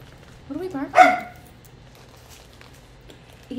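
A dog barks indoors at home, a few sharp, close barks in quick succession that stand out over the room's quiet background, followed by low household noise.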